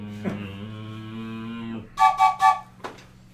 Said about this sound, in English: When in doubt, blow the whistle.